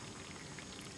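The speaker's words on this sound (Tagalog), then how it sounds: "Tayo'y naglalaga ng buhok ng mais." Corn silk boiling in four glasses of water in a pot: a steady, faint bubbling and seething that runs without a break and has no talk over it.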